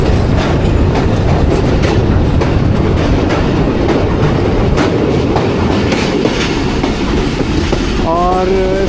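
Pakistan Express passenger train running on rails from Rawalpindi toward Wazirabad in early-morning rain, heard from inside the carriage as a loud continuous rumble with rhythmic clickety-clack and a brief wheel squeal near the end.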